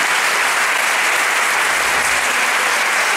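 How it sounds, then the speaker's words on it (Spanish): A large audience at a medical symposium applauds steadily, a dense, loud wash of clapping that holds without a break. "el aplauso que habéis dado también es para todos ustedes"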